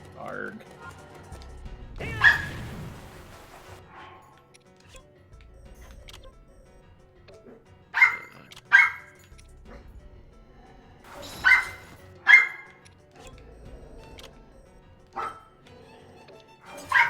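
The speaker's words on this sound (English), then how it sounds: "Your dog has become a lot more vocal." A playful dog gives sharp barks and high yips in scattered bursts, several in quick pairs, loud and close against a quiet room.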